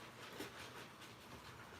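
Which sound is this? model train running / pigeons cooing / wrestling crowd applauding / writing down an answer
model train running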